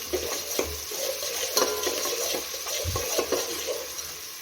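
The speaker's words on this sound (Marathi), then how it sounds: "कांदा थोडासा फ्राय करून घेऊया" Sliced onion frying in oil with cinnamon and cloves for masala rice, stirred with a spoon: steady sizzling hiss broken by repeated scrapes and light taps against the pan, close up and without speech.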